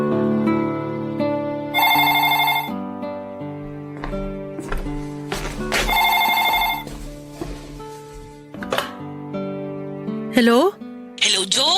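A telephone rings loudly for an incoming call with a bright, repeating musical ringtone, its bursts interleaved with and followed by voices talking.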